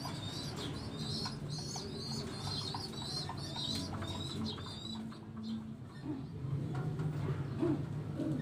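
Pigeons in a breeding loft give soft, repeated cooing calls with some chirps mixed in, close and moderately quiet against a steady background hum.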